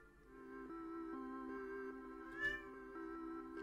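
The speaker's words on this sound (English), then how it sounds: "She does this technique where she meows at the door until I go to her" A pet cat meows at a door, giving a few drawn-out, tonal meows that are faint and close in a quiet room.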